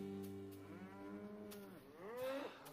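A cow gives a long, low moo that rises and bends in pitch toward the end, heard alone with a faint outdoor background and no talking.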